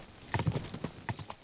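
In the medieval video game Kingdom Come: Deliverance II, a horse's hooves clip-clop in a quick uneven rhythm, close and clear, with a few louder strikes and no voices over them.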